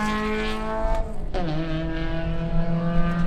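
Race cars pass on a track during a track day, engines droning with a steady harmonic whine that drops sharply in pitch as one goes by, fairly near and alone without talk.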